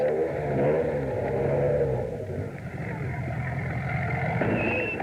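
A Mercedes rally car pulls away from the start at Trafalgar Square in Nelson, New Zealand, in damp weather during the 1980 Motogard Rally, its engine revving and fading under a commentator's voice.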